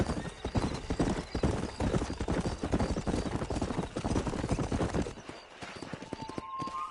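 Horse hooves clip-clopping in a fast, rapid gallop in the video game Red Dead Redemption, loud and close, with a brief whinny, thinning out near the end.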